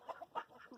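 Chickens clucking in short soft bursts, a few close calls spread over under a second, quiet with no talk.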